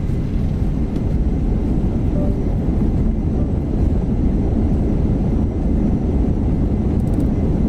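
Jet engines roar in reverse thrust during the landing rollout of a flight-simulator airliner arriving at East Midlands, a steady, loud, dense rumble running the whole time with no break.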